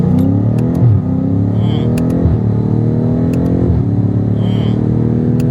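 A BMW car accelerates hard, its engine rising in pitch through several gear changes with brief dips between shifts, loud and close from inside the cabin.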